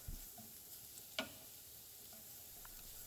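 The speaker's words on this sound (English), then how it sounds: "So I'm just going to continue sautéing this for around a minute." Celery and scallion whites sauté quietly in a pan for tuna mac and cheese, a soft continuous hiss with one brief sharp clink partway through.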